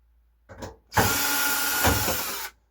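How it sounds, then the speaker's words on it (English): A power screwdriver backs screws out of a Samsung dryer panel, with a short whir followed by a longer, steady loud buzzing run of about one and a half seconds, close up and without talk. "I'll take off these few screws and kind of just show you inside here"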